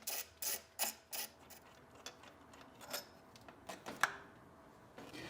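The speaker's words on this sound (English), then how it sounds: "And now we can remove the throttle body." Ratcheting clicks while a throttle body is unbolted from a TPI engine, with quick bursts of ratchet strokes and separate metallic taps, close and fairly quiet, no talk.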